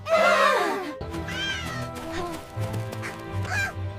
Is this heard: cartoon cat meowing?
yes